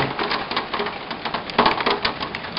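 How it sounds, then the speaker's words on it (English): Hail clatters down steadily outdoors in Colorado during a tornado-warning storm, a dense, loud, continuous patter of hard pellets striking surfaces nearby, with no talking. "Check out the hail."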